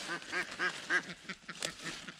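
Several ducks on a Pyrenees homestead quacking in a quick run of nasal calls, four strong ones up close followed by softer, choppier quacks, with no talking.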